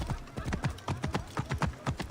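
Horse hooves galloping at a steady, rapid clip-clop rhythm in Assassin's Creed Origins, each beat distinct and close, with a faint neigh-like tone mixed in and no talk.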